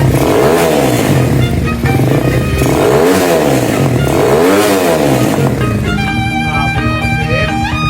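A Euro 150 motorcycle engine revs hard and close, repeatedly climbing and falling in pitch with a loud, raspy exhaust rattle, then settles into a rough, steady idle.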